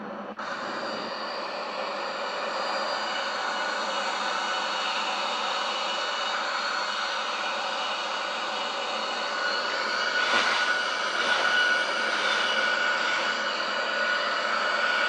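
Boeing 737-800 jet engines in the X-Plane flight simulator give a steady, broad roar that holds for the whole stretch and swells slightly near the end, with no voices heard.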